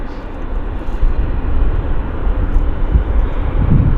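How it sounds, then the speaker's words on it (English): An Air India jet taxis off its stand at Vancouver airport, its engines giving a loud, steady roaring whine that holds throughout the clip. "Waiting for Air India to taxi off stand."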